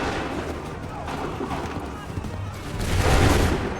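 Musket volley fire on a battlefield in Assassin's Creed III, heard as a dense, rumbling fusillade rising into a louder swell toward the end, with shouted commands nearby.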